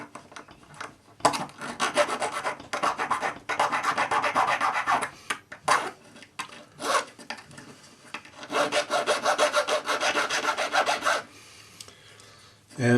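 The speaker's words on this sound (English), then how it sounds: "I'm using a Barrett jeweler's file to tidy up the ends of this." A Barrett jeweler's file rasps back and forth across the end of a metal ring, close and dry, in bursts of rapid strokes separated by short pauses.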